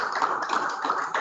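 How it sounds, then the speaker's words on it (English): A small group claps to congratulate a chairman and CEO at a partnership signing ceremony, a short, even patter of hands that is moderately close. "We can give them a clap."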